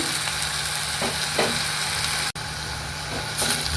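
A watermelon rind dish fries in a pan with a steady sizzle while a spoon stirs it in a few scraping strokes, and a brief dropout breaks the sound partway through.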